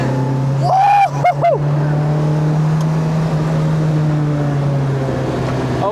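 A Lotus Elise 340R engine pulls in third gear with a loud, steady low drone heard from inside the car, joined by a brief higher whine early on.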